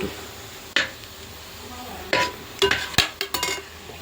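Turmeric, chili and garam masala powders stirred into a frying pan while cooking chicken curry: a few sharp scrapes and clinks of a spoon against the pan, clustered in quick bursts over a soft background sizzle.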